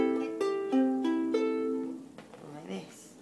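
Cheap ukulele with nylon strings, strummed in a few quick chords that ring briefly and fade, fairly quiet and close, with a soft vocal sound near the end.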